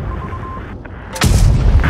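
A T42 tank cannon fires in World of Tanks, one sudden loud boom about halfway through that breaks over a steady engine hum and leaves a rumbling tail.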